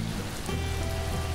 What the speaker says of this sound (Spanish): empieza a llover, se nos llenan los cubos